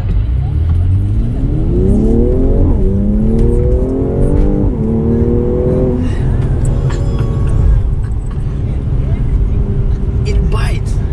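A Mercedes-AMG C43 accelerating and braking hard: a loud engine note climbing through gears with rising tones, then easing off, heard from inside the cabin with steady road roar and people talking over it.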